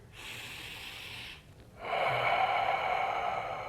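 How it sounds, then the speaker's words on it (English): A slow, deep abdominal breath drawn in, a brief pause, then a longer, fuller breath pushed out. It sounds close and steady, with no talking. "The simple inhale, exhale, abdominal breathing."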